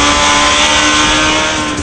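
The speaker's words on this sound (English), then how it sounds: "At the Willow Springs racetrack in Southern California, Suzuki racer Rad Greaves shows us how he rides the Hayabusa." A Suzuki Hayabusa motorcycle on the Willow Springs racetrack in Southern California gives a loud, sustained engine roar at high revs, close and continuous without talk.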